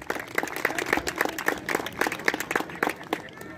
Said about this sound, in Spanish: Javier Iguacel, un fuerte aplauso para él.